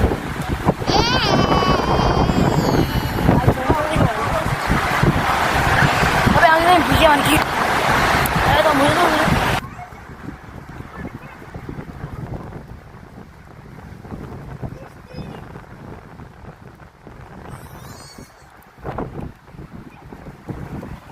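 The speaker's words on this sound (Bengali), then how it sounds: "কক্সবাজারে ঝড় হচ্ছে" At Cox's Bazar beach during a storm, strong wind roars and buffets the microphone over crashing sea waves, loud at first, then quieter, gusty surf with faint voices in the background.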